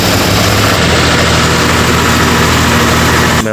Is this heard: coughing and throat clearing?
no